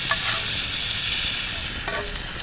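Steaks searing over an open fire make a steady, close sizzle and crackle that runs unbroken, with a few faint clicks on top and no talking.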